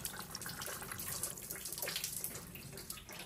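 Coolant gushes steadily out of a 2010 VW Golf engine during water pump removal, a close, continuous splashing pour like a running shower with no speech.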